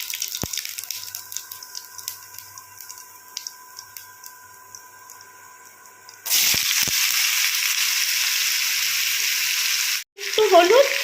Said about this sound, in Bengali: তেলের মধ্যে আমি সাদা জিরে ফোড়ন দিয়ে দিলাম, তারপরে চাল কুমড়োটা দিয়ে দেবো।